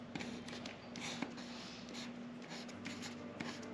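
Pen writing on a folded paper Easter egg craft, faint scratchy strokes in short bursts over a steady low background hum.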